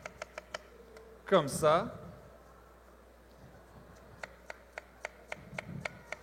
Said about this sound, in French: On émince un oignon.